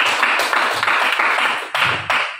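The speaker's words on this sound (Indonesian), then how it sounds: "kita berikan aplaus untuk Chelsea" Students in a classroom clap for a classmate, a close, brisk burst of hand claps with a couple of short pauses and a few louder clusters toward the end.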